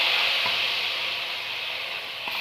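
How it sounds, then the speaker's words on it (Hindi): Onions sizzle steadily in hot oil for a baghar tempering, a continuous bright frying hiss from up close with a few faint clicks and no voices. "अब इसका हम बघार करेंगे इसमें।"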